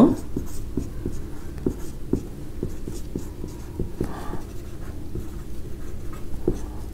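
Pen on paper while a board exam solution is written out, with a run of soft, irregular scratches and taps close by over a low room hum.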